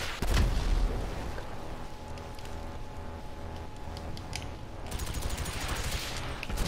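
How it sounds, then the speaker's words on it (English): Rockets and rapid gunfire in the video game GTA 5 form a dense, loud stream of blasts and shots, with a heavy boom at the start and another sharp flurry near the end. "stop shooting rockets"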